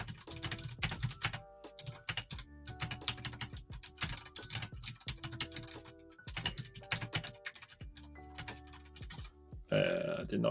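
Quick runs of keystrokes on a computer keyboard during a live stream, typed in bursts with short pauses, close and fairly loud, ending in a brief louder noise.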